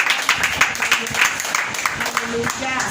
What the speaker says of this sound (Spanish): Padre, en el nombre de Jesús, den un fuerte aplauso al Rey de Reyes y Señor de Señores.